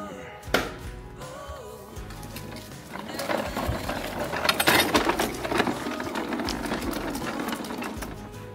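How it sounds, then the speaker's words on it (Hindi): A small Bosch grass trimmer runs in a summer garden, giving a rapid, rattling mechanical whir. It grows louder and busier partway through and keeps going steadily at close range. "ये अच्छी हमारा ग्रास ट्रिमर, अभी स्मॉल साइज है, होपफुली ग्रास इतना गीला नहीं है तो विल वर्क।"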